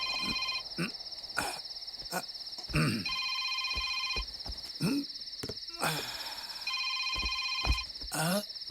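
A phone rings in repeated electronic trilling bursts with short gaps between them, while people talk and move nearby in a dramatic Tamil film scene.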